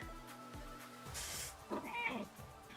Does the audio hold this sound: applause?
no